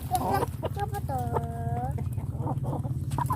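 KUB chickens cluck and squawk at close range in a backyard coop, with steady low machine hum beneath and a person talking over the birds.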